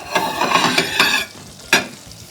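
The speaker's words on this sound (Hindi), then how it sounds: "फिर इसके ऊपर आप थोड़ा सा तड़का लगाओ।" Hot tadka tempering sizzles loudly and steadily as it is poured over Turkish poached eggs, with bursts of crackling frying and a sharp final spatter, close and without talk.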